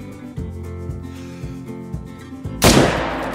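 A single loud rifle shot fired at a moose in the hunting game theHunter: Call of the Wild, Layton Lakes reserve, a sharp broadband blast near the end over a low, steady game soundtrack.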